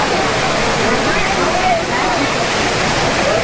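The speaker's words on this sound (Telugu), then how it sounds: "సో ఇక్కడ నుంచి అయితే కొన్ని వాటర్ అయితే వస్తున్నాయి." Steady rushing of water tumbling down a waterfall at Tirumala, a dense continuous roar with no pauses, loud and close throughout.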